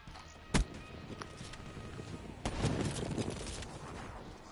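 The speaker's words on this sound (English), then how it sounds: "He even just sniped straight like that." A video game sniper rifle shot: a sharp, loud crack, then a second, weaker report, over a busy bed of game noise and some scattered smaller hits.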